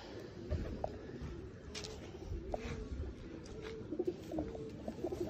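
Soft, repeated pigeon coos rise and fall close by, with rustling and low background noise throughout.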